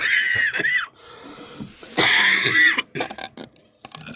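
Several harsh, throaty coughs in bursts, close and loud, with short pauses between them and no talking.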